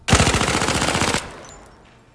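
MP5 submachine gun in the Zero Caliber video game firing a rapid burst of about a dozen sharp shots, loud and close, then cutting off into a fading tail with faint clicks.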